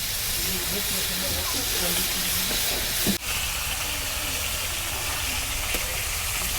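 Pangas fish turned over and frying on its second side in a pan of oil, a continuous loud hiss of sizzling with a sharp clatter midway as the pieces are flipped.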